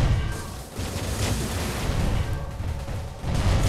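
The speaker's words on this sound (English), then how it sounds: "now when I cast flames, I'm also setting the ground on fire" A flame spell in a video game sets the ground on fire, giving a dense, continuous roaring rumble with crackling bursts throughout, loud and steady, with no talk.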